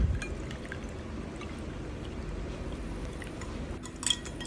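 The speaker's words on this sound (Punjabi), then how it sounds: "ਫਿਰ ਵਿੱਚ ਪਾਵਾਂਗੇ ਪਾਣੀ" Water is poured into a glass of homemade lemon juice with black salt, black pepper, mint and ice, a soft steady pour with faint clinks near the end.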